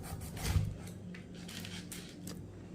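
A knife slicing through a whole pineapple on a kitchen surface gives soft, rasping cuts, a few quiet strokes and scrapes close by with low background hum.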